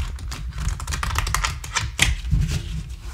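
Rapid riffling clicks of long playing cards being side shuffled, a dense burst of crisp flutters close up, ending with a soft knock.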